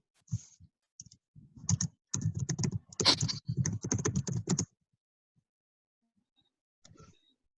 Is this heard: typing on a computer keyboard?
yes